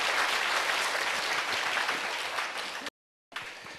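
A church congregation applauds to glorify the Lord, a thick, even wash of many hands clapping that runs steadily, breaks off abruptly into silence, then resumes.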